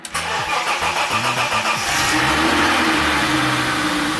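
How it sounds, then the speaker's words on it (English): BMW E30 engine cranking with a rhythmic starter churn for about two seconds, then catching and settling into a steady, loud idle; no talking. "Hopefully that starts the car right up."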